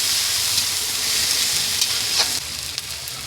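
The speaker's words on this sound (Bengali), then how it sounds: "একটু ভাজা ভাজা করে নেব।" Garlic paste fries in a pan with a steady, close hiss and sizzle that holds unbroken, with a few faint clicks of stirring.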